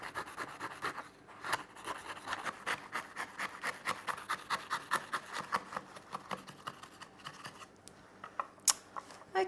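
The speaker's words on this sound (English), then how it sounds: "I'm going to trim the edges just to make it look nice and neat" Steady, rhythmic small cuts and scrapes sound as the edges of a cooled, golden blind-baked pastry case for an English breakfast quiche are trimmed, quiet and close, repeating many times.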